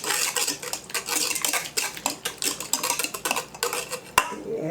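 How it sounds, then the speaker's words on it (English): Egg stirred into cake batter in a bowl, a spoon scraping and clinking against the sides in a steady, quick rhythm, close and loud, ending with a sharper knock. "put my egg in it and stir it around"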